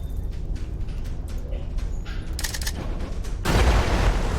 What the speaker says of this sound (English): I think a frag grenade will finish this job.